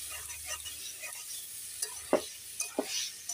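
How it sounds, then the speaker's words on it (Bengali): Broccoli curry is stirred in a pan, giving a faint sizzle with a few sharp scrapes and taps of the spoon, quiet and close with no talking. "দেখো, একটু নেড়ে দিচ্ছি"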